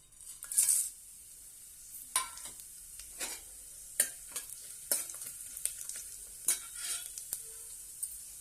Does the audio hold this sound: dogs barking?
no